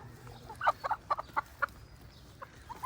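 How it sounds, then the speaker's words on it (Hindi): A hen clucks in a short run of quick, soft notes, then pauses and gives a few more clucks, close by and fairly quiet. "अब मैं आपको जो इसके बाद की मुर्गी का शौक कराता हूँ, आप उसको देखें।"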